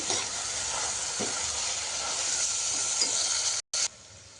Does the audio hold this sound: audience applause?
no